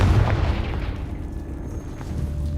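Blasting-curse explosion in Hogwarts Legacy: a loud, deep boom at the start, then a fading low rumble with a ringing tail.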